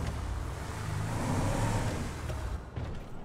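A car engine in GTA 5 drives steadily at a close distance, with a sustained mid-pitched hum and a slight swell of revving near the middle, and no one talking.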